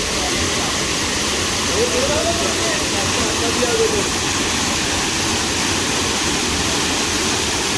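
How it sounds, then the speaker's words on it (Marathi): A steady, dense rush of falling water from Chander waterfall near Malvan, Konkan, fills the scene continuously, loud and close, with faint voices buried underneath. "खूप निसर्गरम्य असा वॉटरफॉल आहे"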